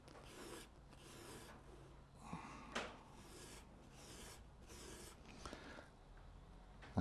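An abrasive pad rubs carbon off engine pistons with soft, repeated rasping strokes at a steady rhythm. The strokes are faint and close, with no talking.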